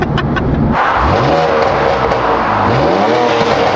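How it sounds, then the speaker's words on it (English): A BMW M4 with an exhaust leak revs hard and loud from close range, its raspy engine note sweeping up and down through repeated rev cycles, with no talking. "we have an exhaust leak"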